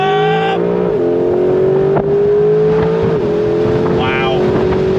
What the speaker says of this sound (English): On throttle!